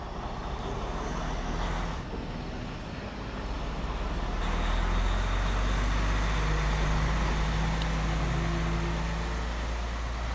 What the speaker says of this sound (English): Wait for this truck to pass by.